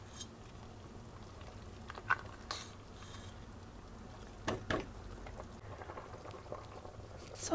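Chicken soup simmers in a pot with soft, faint bubbling and occasional small pops and ticks, quiet and steady throughout.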